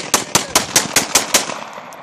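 Gunfire rings out as a rapid series of seven evenly spaced sharp, loud shots, each with a brief ringing tail, followed by a couple of fainter distant reports.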